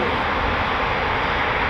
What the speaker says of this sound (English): we've got 2 Typhoons airborne